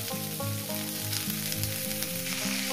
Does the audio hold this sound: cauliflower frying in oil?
yes